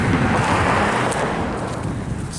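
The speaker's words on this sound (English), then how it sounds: "Somebody driving a truck." A truck driving past outside an old 1800s grain house, a steady broadband roar of tires and engine with some wind noise, fairly loud and continuous throughout.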